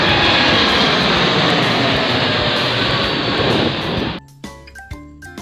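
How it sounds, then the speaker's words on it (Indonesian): A toy airplane gives off a loud, steady electronic engine roar for about four seconds, then cuts off into a short run of beeping tones. "ternyata ini pesawat terbang ya teman"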